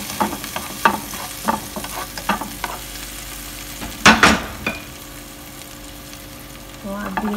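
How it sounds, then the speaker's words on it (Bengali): Chopped garlic fries in a pan for a macaroni dish, with a soft sizzle under a run of sharp utensil scrapes and taps from stirring. One louder clatter comes near the middle, then the pan quiets to a low simmer. "দিয়ে দিলাম এখানে কেটে রাখা রসুন কুচি। এটা একটু ভাজা ভাজা করবো, হালকা একটু ব্রাউন।"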